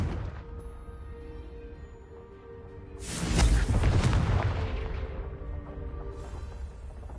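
A Confringo fire spell explodes in the video game Hogwarts Legacy, a single deep booming blast that swells suddenly midway and then rumbles and fades over a low game ambience.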